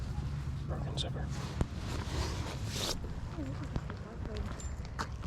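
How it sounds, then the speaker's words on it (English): A zipper on a bag or clothing is opened or closed in a few quick rasping pulls, close and moderately loud over steady background noise. "Zipper."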